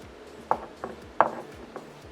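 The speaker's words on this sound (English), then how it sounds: "I'm going to need to put on these 2 metal washers" Metal washers slipped onto the piston rod of a Pista Plus manual espresso lever machine, fitted over a leather gasket, making a few sharp, light metallic clicks and taps spaced irregularly, close and quiet.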